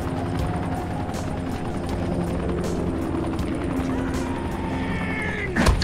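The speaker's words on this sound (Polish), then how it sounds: "Mamy helikopter" A steady helicopter rotor drone fills the scene in the zombie survival video game Dying Light, holding constant with a sharp impact near the end and no talk.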